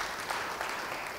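Brief, fairly faint applause from a church congregation, a soft wash of clapping with a few slightly louder bursts.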